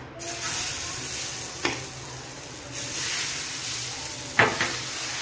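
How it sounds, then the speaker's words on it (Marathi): Dosa batter sizzles on a hot tawa griddle with a continuous close frying hiss. Two sharper spurts of sizzle break through partway and near the end. "आता आपण दुसरा डोसा टाकूया."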